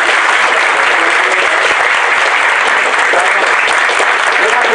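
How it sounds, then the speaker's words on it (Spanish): Dense, sustained applause from an audience at an International Women's Day conference, a loud continuous wash of many hands clapping at once, steady and unbroken throughout. "Lo recibimos con un fuerte aplauso."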